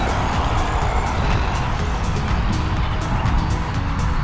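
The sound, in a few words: road traffic, cars passing by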